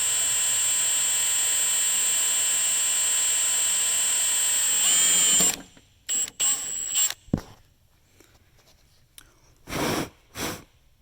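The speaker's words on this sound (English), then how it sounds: "kind of get your pilot hole drilled there." A drill bores a pilot hole in a Lawn Boy mower transmission, with a steady, loud high whine for about five seconds, then several short bursts as the trigger is pulsed.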